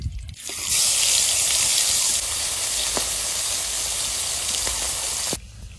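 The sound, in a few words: koi fish frying in oil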